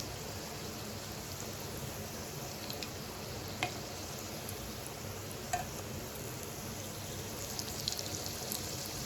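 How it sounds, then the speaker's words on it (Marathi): Kothimbir vadi, coriander fritters, fry in a pan, giving a soft steady sizzle with a few light clicks of a spoon moving them. Quiet and continuous, with no talking. "तर आपण चमच्याने थोडं हलवून बघायचं"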